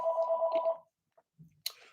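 A telephone rings with a bright electronic tone that repeats steadily and then cuts off, followed by a short silence, a low thud and a sharp clatter. No one speaks.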